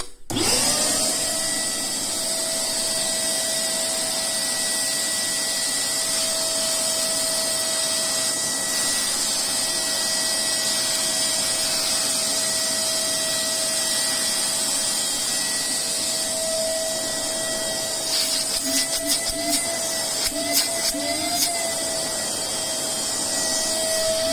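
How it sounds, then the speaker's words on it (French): A 1200 W TiTAN stainless-steel drum vacuum cleaner runs steadily with a loud, constant high-pitched whine and motor hum, uninterrupted for the full stretch, with a few brief rattles near the end and no talking. "Évidemment, c'est bruyant. C'est un aspirateur"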